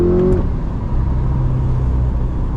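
An Audi R8 with a V10 engine pulls hard for a short burst, a loud close engine roar dropping after a brief shift into a steady, lower drone inside the cabin.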